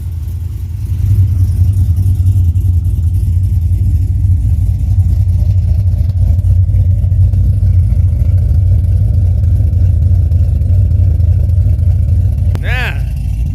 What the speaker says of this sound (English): Motor shaking from camshaft.